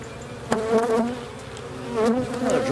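Honey bees buzz close by during a hive inspection, a steady droning hum with pitch wavering as individual bees pass near, plus a sharp tap of frame handling.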